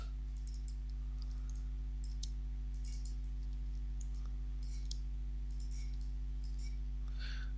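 Computer mouse being clicked and double-clicked while a UV map of a low-resolution character is edited, giving faint, sparse clicks over a steady electrical hum with no talking.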